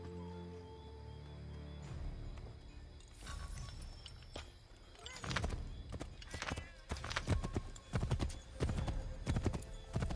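Horse hooves clip-clopping at a steady gallop in the Assassin's Creed 3 video game, close and loud, with rhythmic clusters of hoofbeats over game music and ambient sound.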